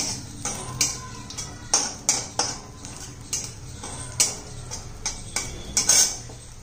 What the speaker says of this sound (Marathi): आपलं तूप गरम झालेले आहे। त्यात काजू बदाम हे ड्रायफ्रूट घालून घेऊया। ते परतून घेऊया।